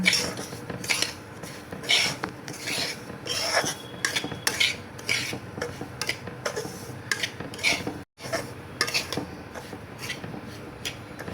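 Semolina being lightly roasted in a pan, a utensil scraping and clinking against the metal in steady irregular strokes, close and fairly loud, with one brief pause.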